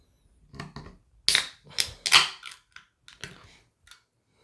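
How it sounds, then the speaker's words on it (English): A can of Hop Butcher double IPA is cracked open and poured into a glass, giving a run of sharp clicks and hissing bursts followed by softer fizzing snaps, close and without talk. "let's crack this open, get into the glass"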